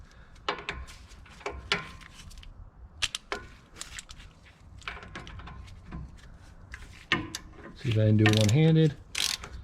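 Socket wrench ratcheting on a steering damper bolt of a 2011-2016 Ford F250, a run of quick close clicks in bursts with short pauses, a brief louder grinding stretch near the end, and a voice speaking briefly.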